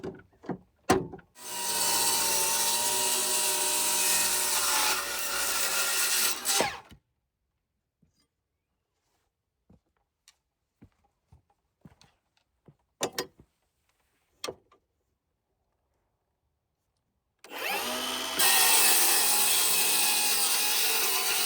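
Steel rebar being cut for stepdown footings on a mountain home build: two long, loud, harsh grinding bursts separated by a quiet stretch of scattered clicks and knocks as the bar is handled.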